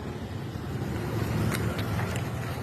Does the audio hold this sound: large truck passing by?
yes